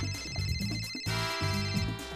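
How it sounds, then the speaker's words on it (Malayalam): A phone ringtone plays for an incoming call in an office, a steady melodic electronic tone with a repeating pattern over quiet background music, fairly loud and continuous throughout. "സർ, മിസ്റ്റർ ലീ അങ്ങേ ഫോണിൽ വിളിക്കുന്നു."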